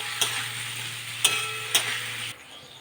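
A spice paste with added water is sautéed in a pan, giving a soft steady sizzle with three sharp scraping clicks of a spoon against the pan before the sound drops away at the end.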